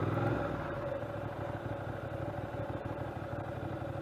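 A Ducati Monster 600 engine pulling in first gear at low speed in town, a quiet uneven clattering throb with a steady hum underneath.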